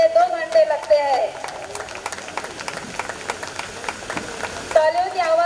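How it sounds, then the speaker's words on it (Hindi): An audience claps at a golden jubilee function of a science junior college, a steady wash of applause beneath an announcer's voice, rising and falling in the middle stretch. "तालियों की आवाज आनी चाहिए।"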